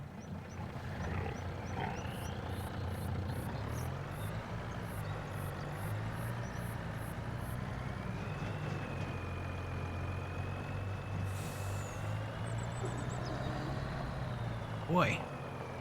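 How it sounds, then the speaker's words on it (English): A truck engine drones steadily in Farming Simulator 25, with shifting tones as it moves and a brief hiss of air release near the end, under ongoing game sounds. "I think I am gonna need this truck."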